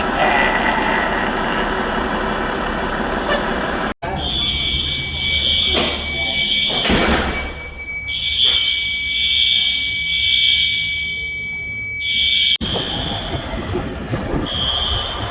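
Fire alarm sounding outdoors as a steady high electronic tone that persists for several seconds, heard from some distance alongside background rumble and a few bursts of wind or movement noise.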